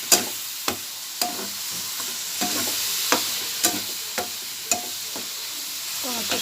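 Tilapia curry masala is stirred and sautéed with water in the pan, a loud bubbling sizzle punctuated by regular spatula scrapes and taps about every half second, close up, with no talk.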